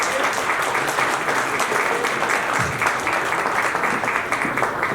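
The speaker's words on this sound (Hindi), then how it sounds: "लेडीज एंड जेंटलमैन प्लीज आपकी तालियां चाहिए" An audience applauds steadily at a Gilgit Baltistan Day celebration in the USA, a dense wash of clapping held at an even level for several seconds.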